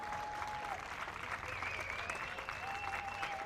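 Steady crowd applause at an IBSA Blind Football European Championships match between Georgia and Spain, a continuous wash of clapping with faint whistles or tones threading through it.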